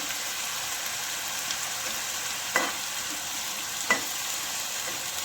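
A tadka of tomato and onion roasts in a pan for saag, giving a steady moderate sizzle with two soft spoon knocks against the pan.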